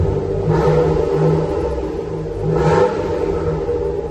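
An Alfa Romeo 916 GTV Cup fitted with a Wizard exhaust revs up close in a workshop, its deep rumbling idle swelling twice into loud, throaty blips before settling back.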